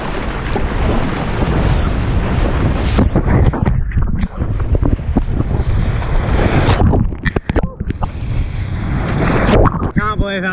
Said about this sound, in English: Can't believe how fun the waves are.